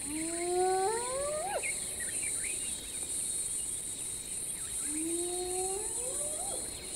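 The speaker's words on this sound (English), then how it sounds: "It has another distinctive call known as whooping," A spotted hyena whoops twice, each a rising, drawn-out call that climbs in pitch over about a second, heard at a distance over a constant night chorus of crickets and insects.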